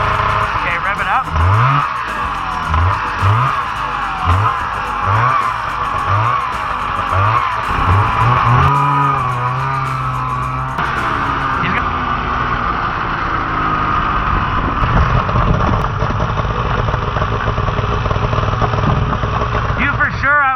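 Cheap used snowmobile engine with a stuck carburetor float revving in repeated bursts, rough and loud, then holding a steady drone, with people talking over it.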